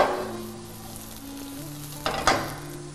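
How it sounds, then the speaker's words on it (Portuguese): Julienned onions sautéing in oil in a frying pan, a steady soft sizzle with a low hum underneath and a couple of brief clinks of a utensil near the end. "Vou dar uma refogadinha na minha cebola."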